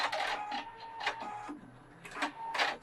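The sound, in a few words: Pfaff 710/720 sewing machine sewing a satin stitch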